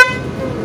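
Aftermarket monotone puff-up horn fitted to a motorcycle gives one loud, close, steady blast that holds its strong buzzing pitch from start to finish.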